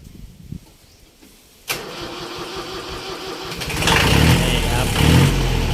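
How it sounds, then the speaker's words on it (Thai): A Kubota L2002DT three-cylinder, twenty-horsepower tractor diesel cranks and catches with a sharp start, settles into a rough, throbbing idle, then grows louder and heavier as it revs, heard close up with no speech. "อ่ะเดี๋ยวเรามาฟังเสียงเครื่องยนต์กันหน่อยครับ อ่ะ สตาร์ทเลย"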